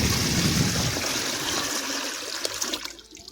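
Water poured from a rice sack into a container holding freshly caught live fish at a dam, a loud rushing gush that tapers to a trickle and stops.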